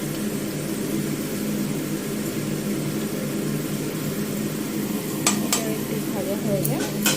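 Potatoes fry in a pan with a steady, even sizzle while being stirred, and a few sharp clinks of a utensil against the pan near the end.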